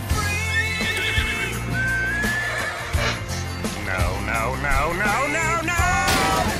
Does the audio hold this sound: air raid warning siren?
no